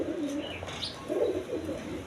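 A pair of pigeons kept with their young coo softly and repeatedly at close range, low throaty rolling calls with a faint hiss of background, no voices.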